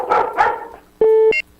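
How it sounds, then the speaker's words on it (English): Two sharp dog barks sound behind a radio phone-in call, close and loud over the line, followed by a steady electronic beep tone near the end. "that dog ain't on bad in the background"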